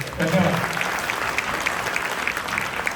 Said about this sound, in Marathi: त्यामुळे त्यांच्यासाठी एकदा जोरदार टाळ्या.